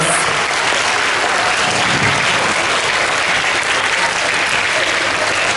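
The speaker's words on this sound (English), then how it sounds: "Let's give them all a big, big round of applause." Sustained applause from a school assembly audience honouring young primary students, dense and steady clapping filling the hall from start to finish without any pause.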